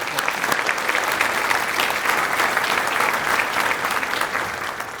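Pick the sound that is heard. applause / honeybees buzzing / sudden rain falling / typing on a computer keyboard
applause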